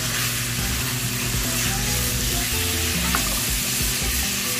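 Chicken pieces frying in a pan with sautéed garlic, onion and ginger for a creamy chicken curry, a steady loud sizzle that runs without a break and carries faint stirring clatter.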